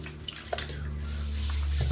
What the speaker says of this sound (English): I'm just going to pass the bloom water into my hand.